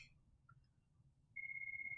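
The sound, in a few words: phone ringtone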